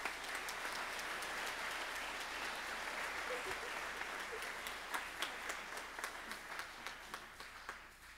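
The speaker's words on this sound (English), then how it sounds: "let's give them a round of applause" At a high school spring concert, an audience applauds graduating seniors: a steady, full roar of clapping that gradually thins into scattered, distinct claps toward the end, heard from within the hall.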